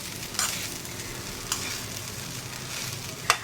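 Veg pulao rice is stirred in a pot over a steady frying sizzle, with three sharp scraping strokes of the spoon spaced irregularly across the sound.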